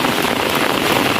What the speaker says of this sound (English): Whole heap of rain a falling, people.